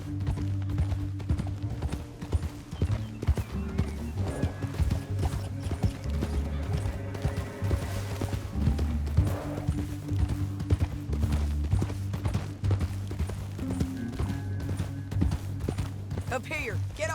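Horse hooves clip-clop in the Red Dead Redemption II video game, a steady rhythmic patter under game dialogue, music and mechanical clatter.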